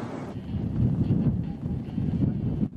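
Strong constant wind at a hilltop army post, a loud rumbling buffeting that hits the microphone steadily throughout with gusty swells and no clear voices.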